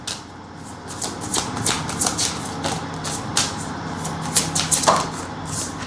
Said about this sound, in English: I'm just gonna shuffle this again